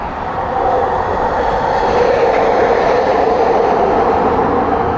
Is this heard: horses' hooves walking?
no